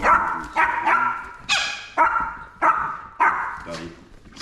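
Dogs barking close by on a farm in Tasmania: a rapid series of about seven loud, evenly spaced barks, with no talk over them.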